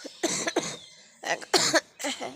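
A person with a cold and hoarse throat coughs repeatedly at close range, several harsh bursts in two clusters separated by a short pause, loud and with no talk.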